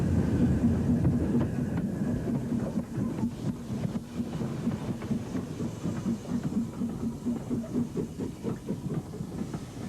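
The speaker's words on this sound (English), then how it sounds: "The Hants and Dorset branch flyer was one of the last steam-hauled trains on the Lymington Pier branch." BR steam locomotive 80151 hauls the Hants and Dorset branch flyer on the Lymington Pier branch in 1967. It is loud and close, with a steady rhythmic chuff and rumble throughout.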